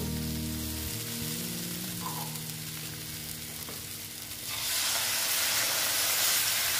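Water poured into a hot pan of katla fish curry with onion stalks bursts into a loud, steady hiss of sizzling steam that swells sharply partway through, over low background hum, with no talking.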